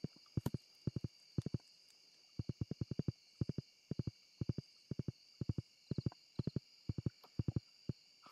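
Horse hooves clip-clopping in the Stardew Valley video game, with crisp, evenly paced hoofbeats in quick groups of two to four, steady and clear over a faint background tone.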